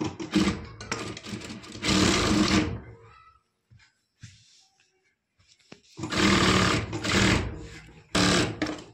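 Sewing machine stitching the sleeve of a lehenga blouse, heard as loud bursts of whirring motor and needle rattle that stop and start, with quiet gaps between runs.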